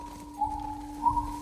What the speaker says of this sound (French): Moi, j'aime bien être à cheval.